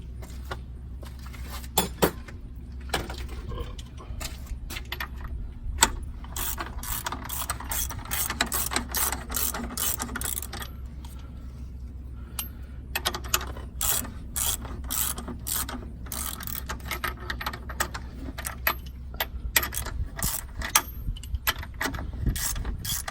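A ratchet wrench cranks on bolts of a Detroit Diesel 671 engine during head removal, giving rapid, close pawl clicking in repeated bursts over a steady low engine-room hum, with no talk.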